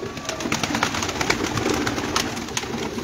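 Many pigeons coo together in a crowded loft of roughly 150 to 200 birds, a dense continuous murmur of overlapping calls with scattered sharper wing and bird noises, close and steady.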